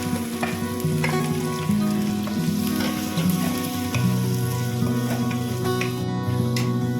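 Onions fry in about 80 ml of oil in a wok with bay leaf and cumin, a steady close sizzle with faint scraping and stirring clicks throughout, no voices.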